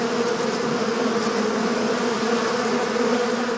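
Honey bees swarm around an artificial beehive, giving a steady, dense buzzing drone that stays loud and even throughout, with no voices.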